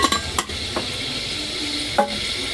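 Food sizzles steadily as it fries in a pan in a home kitchen with garam masala and turmeric. A spoon stirs and scrapes the metal several times, leaving a few sharp clinks over the continuous hiss.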